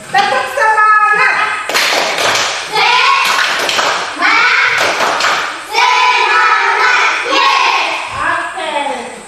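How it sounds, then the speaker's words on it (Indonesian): Schoolchildren in a classroom repeat the 'tepuk semangat' clapping chant, loud rhythmic groups of claps and slaps interleaved with their unison voices, close and energetic throughout. "Sekali lagi, tepuk semangat."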